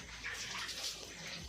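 Water runs and splashes as dishes are washed, a brief, soft, steady gushing like a tap or poured stream, heard alone and fairly faint.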